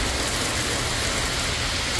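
A hailstorm in Minnetonka, Minnesota, with hailstones bouncing, makes a dense, constant hiss of pelting ice, steady and loud throughout with no voices.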